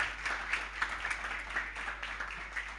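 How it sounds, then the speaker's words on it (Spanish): Audience applause for a conference panel, a faint, steady patter of many hands clapping, heard from a distance without voices over it. "vamos a darle un aplauso entonces"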